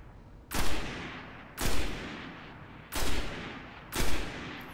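Four heavy, evenly spaced gunshots in the Destiny video game on Mars, each a loud sharp blast with a rumbling tail, about one second apart with no talking.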